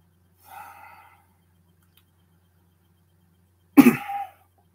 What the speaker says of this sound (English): Sorry, I really have a bad cough.